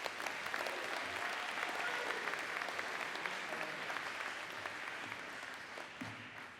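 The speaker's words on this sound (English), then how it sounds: "Let's give him a big round of applause." An audience at a community salute event for military service members claps in sustained, dense applause that fills the room and slowly tapers off.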